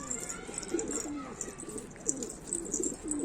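Pigeons coo in soft, repeated throaty bursts close by, several birds overlapping in a steady murmur with a faint higher chirp now and then, no voices over them.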